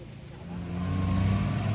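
Traffic on the winding Matheran hill road, one vehicle engine swelling from a low distant hum to a louder near drone as it approaches, with no talk.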